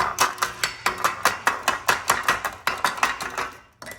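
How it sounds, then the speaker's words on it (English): A small hammer taps a bent metal part on a Jeep TJ Dana 30 front axle, about twenty quick, evenly spaced sharp metallic clinks ringing up close, then a brief pause and one last strike. "Grab a little hammer"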